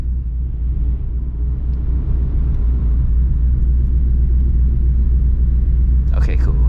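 A catless S650 Ford Mustang GT running its stock exhaust rumbles loudly and steadily on a city street at night, a deep continuous drone with a brief higher sound near the end.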